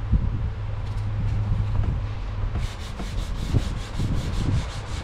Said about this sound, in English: So just smooth sanding strokes, smooth strokes.